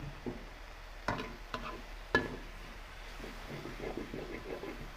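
Food stir-fried in a pan for a simple Thai home-cooked breakfast, seasoned with fish sauce; a soft sizzle runs throughout, with a few sharp clatters of the spatula on the pan early on and light scraping toward the end.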